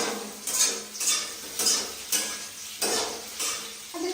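Hot oil spatters and sizzles in a kadai as potatoes fry, heard as a string of short crackling bursts roughly every half second, close and fairly quiet, with no one talking.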